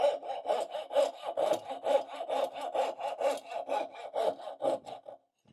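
A hand saw cuts wood for inlaid dovetails in long, even strokes. About two rasping pulls a second keep a steady rhythm, close and loud, with no talk, and stop just before the end.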